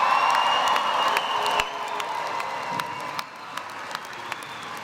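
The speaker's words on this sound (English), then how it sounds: "Let's give them another round of applause." A large commencement crowd applauds and cheers for spring graduates, a dense wash of clapping with whoops and shouts at first, then thinning and softening into scattered claps after a couple of seconds.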